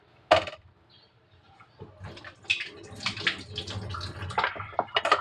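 A cucumber being rinsed under running tap water in a kitchen, with splashing bursts and the trickle of the stream as it is turned and scrubbed, fairly close and without speech.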